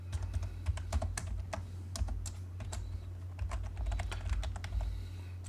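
Keystrokes tapped on a computer keyboard while entering the L shortcut in AutoCAD: a steady run of crisp, close clicks in an irregular rhythm, with no voices.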